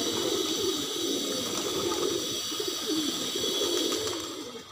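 A domestic Nisawara pigeon coos softly in low repeated phrases close by, over a steady hiss of background noise that fades toward the end.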